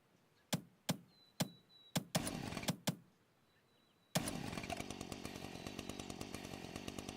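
Chainsaw shots in the shooter video game ULTRAKILL, a series of sharp separate impacts followed by a sustained rattling buzz with rapid repeated pulses, loud and up close.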